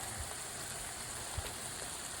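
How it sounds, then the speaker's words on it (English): Rain falls at Barkcamp State Park on a cold, windy day, a soft and even hiss that stays constant throughout with no voices. "It is raining."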